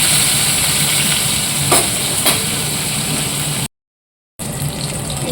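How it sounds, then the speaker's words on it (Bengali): Hilsa fish fries in hot oil with a loud, dense, continuous sizzle, close by, briefly cut to silence before resuming. "ইলিশ মাছটা ভাজতে হবে"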